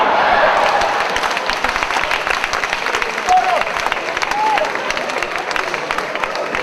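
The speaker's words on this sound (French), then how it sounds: "On applaudit encore une fois pour lui." An audience claps steadily in a crowded room, sustained applause with some scattered voices and a brief cheer mixed in.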